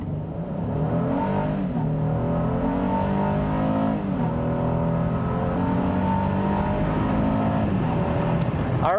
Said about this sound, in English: we will try brake torquing it here from a stop